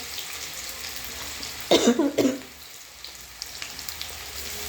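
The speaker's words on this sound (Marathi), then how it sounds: "हे बघा आता कांदा फ्राय झाला आहे" Chopped onions fry in a pan with a soft, steady sizzle, interrupted once by a short loud cough-like burst, then quieter frying with faint clinks.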